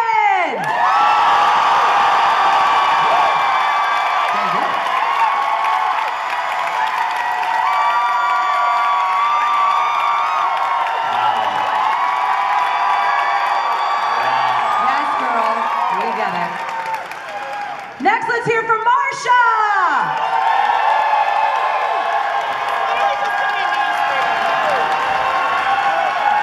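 A game-show audience applauds, cheers and whoops loudly for a contestant at a Pittsburgh drag competition mini challenge, sustained crowd noise with a brief dip near the end before the roar resumes.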